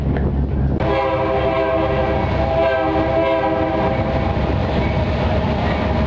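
A tour boat's whistle blasts loud and close, a sustained chord-like tone that cuts in abruptly after a brief pause and holds steadily, with a low engine rumble underneath.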